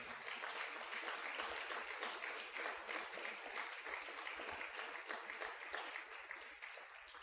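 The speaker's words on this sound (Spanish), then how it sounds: "Denle un aplauso al Señor por eso" A church congregation applauds the Lord during a Spanish-language sermon, a dense, even wash of clapping that holds steady throughout and stays fairly faint and distant.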